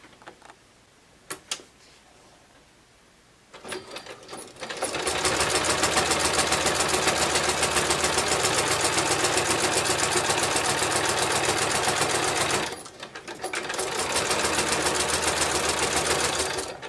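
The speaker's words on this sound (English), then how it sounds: "So now I'm going to top stitch the top of the pocket." A sewing machine top stitches across the top of a brown leather bag pocket in two loud, rapid, even runs of stitching, split by a short pause, with soft handling sounds before it starts.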